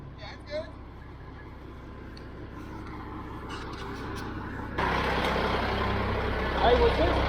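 A truck engine idles with a low continuous rumble that grows louder and fuller partway through, while people talk nearby.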